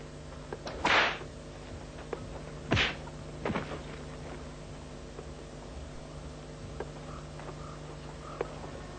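A whip lashes in a dramatic film, sharp cracking strikes standing out against a steady low hum, with two loud lashes and a fainter third one.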